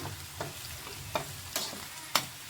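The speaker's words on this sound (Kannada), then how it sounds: "ಎರಡು ನಿಮಿಷ ಫ್ರೈ ಆಗಲಿ ನೋಡಿ ಈ ರೀತಿ ಸ್ವಲ್ಪ ಗೋಲ್ಡನ್ ಕಲರ್ ಬ್ರೌನ್ ಬರಬೇಕು ಸ್ವಲ್ಪ ಚೆನ್ನಾಗಿ ಫ್ರೈ ಮಾಡ್ಕೋಬೇಕು" Onions frying in a pan for paneer egg curry, a soft sizzle broken by several sharp stirring scrapes and clinks at irregular intervals, close and fairly quiet, with no talk.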